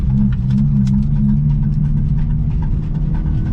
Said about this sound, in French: Le bruit que t'entends, c'est rien, c'est le pneu qui se délamine un peu.